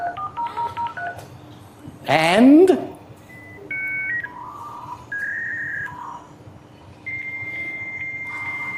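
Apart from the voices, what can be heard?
dial-up modem connecting over phone line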